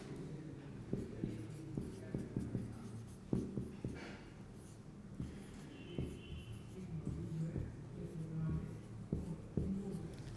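Pen or marker writing on a board during a computer science lesson on database concepts and SQL, a run of soft tapping and scratching strokes over about ten seconds, close and low in level with a faint background hum.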